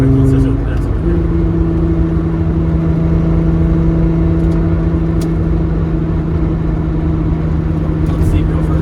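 Volkswagen VR6 car engine accelerating on the Autobahn, a steady loud drone with rising tonal harmonics after the first second, heard from inside the car with some voice underneath.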